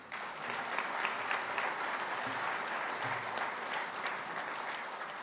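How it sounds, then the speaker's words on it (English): An audience at an opening conclave, with principals, deans and academic staff in attendance, breaks into dense, sustained applause that fills the hall at a steady level for the whole stretch, with no voices standing out. "A big applause for her, please."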